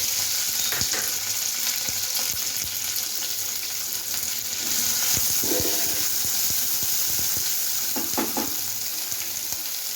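Crushed chilli thecha tipped into hot oil already holding curry leaves, setting off a steady loud sizzle and crackle with a few sharper spits and stirring scrapes, no voices.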